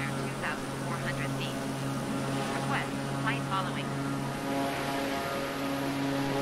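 Propeller airplane engine in Microsoft Flight Simulator 2020, climbing after takeoff near Custódia, Pernambuco, droning as a steady, even tone throughout while someone talks over it.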